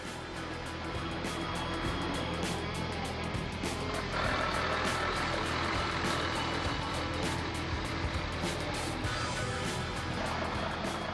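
A car on a short test drive after a rear axle O-ring replacement, heard as a steady broad road and engine rumble with wind noise throughout, constant and moderately loud, with no talk.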